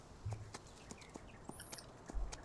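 Horse hooves trotting in Farming Simulator 19, a series of soft, evenly spaced game hoofbeats at close range with a light low thump at the start and end.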